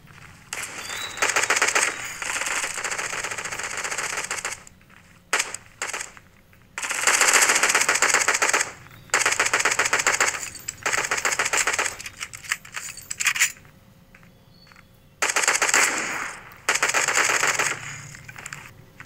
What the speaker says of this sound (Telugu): ఫైరింగ్ జరుగుతుంది